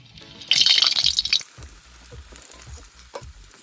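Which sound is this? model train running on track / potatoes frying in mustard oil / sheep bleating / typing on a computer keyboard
potatoes frying in mustard oil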